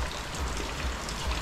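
Steady rain falling under dark, overcast skies, a continuous even hiss of drops and trickling water with no breaks, close by.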